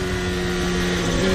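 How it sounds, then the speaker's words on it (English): A loud, steady Formula 1 engine whine drones continuously at high revs during 2023 Miami Grand Prix qualifying, close and harsh, with no pauses or voices. "This is the sound of Max Verstappen."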